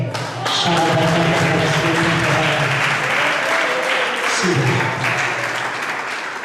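A church congregation at a Portuguese-language gospel congress applauds, dense clapping running continuously while sustained tones from music or voices hold underneath, with a brief shift partway through.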